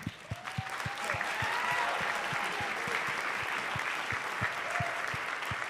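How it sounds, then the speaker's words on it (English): An audience claps steadily through a sustained round of applause, a dense crowd patter with a few sharper nearby claps, continuous from start to finish. "One big round of applause at the end again"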